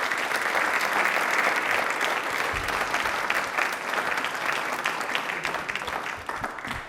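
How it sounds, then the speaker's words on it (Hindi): A studio audience on a televised yoga and quiz program claps loudly in a sustained, dense round of applause that holds steady and then gradually thins toward the end. "ताली एक बार जोरदार बजा दीजिए।"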